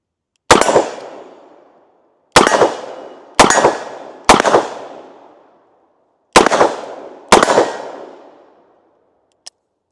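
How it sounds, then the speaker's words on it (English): Six loud, close shots from a Smith & Wesson Model 19 Combat Magnum .357 revolver, each a sharp crack with a long ringing decay, spaced unevenly over a few seconds, followed by a faint click. "let's go ahead and take our first few shots with it today"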